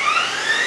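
An Okuma LB-15 CNC lathe spindle spinning at 1000 RPM in high gear gives a loud, steady whine with sustained tonal lines, continuous and unchanging, with no talking.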